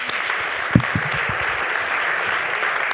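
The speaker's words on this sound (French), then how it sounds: "je pense qu'on peut les applaudir très fort" Conference audience applauding after a talk, a steady wash of clapping with one sharper thump near the start, continuing evenly throughout the clip.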